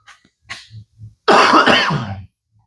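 A sick person coughs hard in one loud, rough burst lasting about a second, close to the mic, after a few softer throat sounds and breaths.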